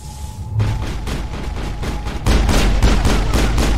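Sustained rapid gunfire in a Mass Effect firefight, dense bursts of shots that grow heavier midway, loud and continuous with no talk.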